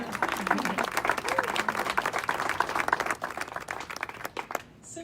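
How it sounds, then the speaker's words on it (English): Audience applause at an announcement for a new house for healing, a close, dense patter of many clapping hands with a few cheers, tapering toward the end. "That's worthy of applause."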